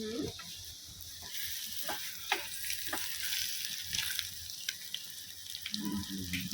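Soft sizzling of egg masala frying in a pan, with faint scraping and a few sharp clinks of a stirring utensil, quiet and close, no talking.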